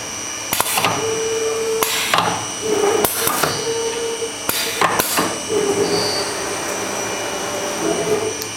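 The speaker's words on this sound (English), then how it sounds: "he's going to push this auto cycle button again, and it's going to go up and weld the base." Automatic bookcase welding machine welding a shelf base, with repeated sharp bursts and crackles of welding over a steady mechanical hum and hiss, several pulses spaced a second or so apart, close by.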